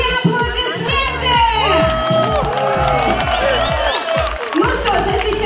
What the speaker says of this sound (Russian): Итак, друзья, громкие аплодисменты!